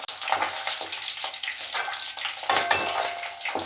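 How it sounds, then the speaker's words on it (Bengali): Paneer pieces fry in hot oil in a kadai, giving a continuous bright sizzling crackle with a few louder spatters toward the end and no talking. "আমার পনিরগুলো সব ভাজা হয়ে গেল"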